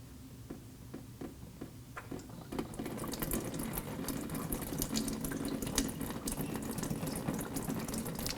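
Engine coolant draining from the radiator drain plug of a 2013-2016 Nissan Sentra into a collection receptacle beneath the car: a few separate drips at first, then a steady splashing stream that runs close and continuous with no talking.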